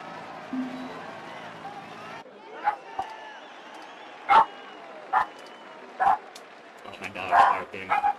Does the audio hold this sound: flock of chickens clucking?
no